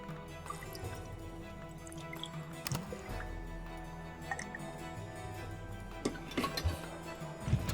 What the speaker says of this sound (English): so we're going to pour some water for that.